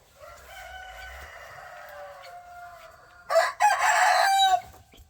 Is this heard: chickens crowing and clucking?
yes